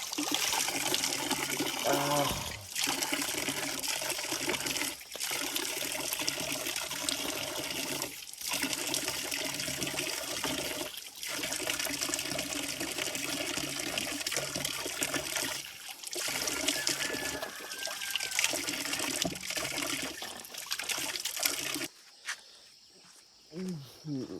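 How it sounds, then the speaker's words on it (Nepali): Tap water runs steadily while someone washes their face in the morning, a continuous close splashing stream broken by brief gaps as hands cup and splash, stopping near the end. "अब चाहिँ मैले मुख धोएँ"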